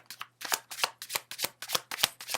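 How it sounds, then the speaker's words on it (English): Tarot cards are shuffled by hand in a steady run of about eight crisp riffling bursts, close and clear with short gaps between each. "you're seeing that I'm shuffling here and these cards are coming out"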